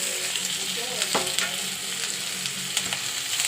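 Chopped tomatoes fry in hot oil alongside onion and ground sesame, a steady close sizzle with a few scraping stirs of the spoon against the pan.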